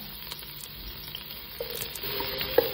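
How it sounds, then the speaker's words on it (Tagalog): Garlic frying in cooking oil for chicken sinigang gives a steady, close sizzling hiss that swells slightly toward the end, with a couple of faint utensil clicks and no speech. "Lagyan na tayo ng mantika. Lagyan na yung bawang."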